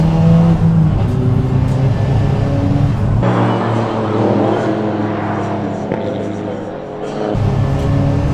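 A Renault R21 Turbo Europa Cup race car with a 300 hp front-wheel-drive turbo engine roars loudly up close, its revs climbing with a gear change midway, then pulling hard again.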